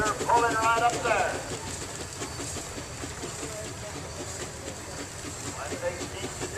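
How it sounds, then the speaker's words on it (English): A twin-cylinder steam traction engine pulls under load in a parade, giving a steady run of rhythmic chuffs and hiss at moderate distance, with voices speaking over it at the start and end. "Oh, listen to her pulling right up there."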